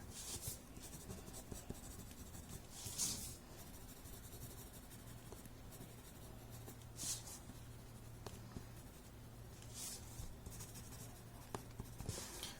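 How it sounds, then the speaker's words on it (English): A graphite pencil shades and smudges a drawing on paper, producing faint continuous scratchy rubbing with a few brighter strokes spread across a quiet background hum. "Add some graphite there and just smudge it."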